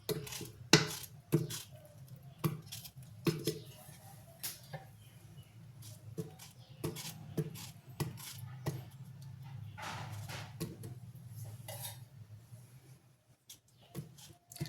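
Quiet, irregular knife taps and small clunks as melon is cut into small pieces and dropped into a mixer jar, with a faint low hum.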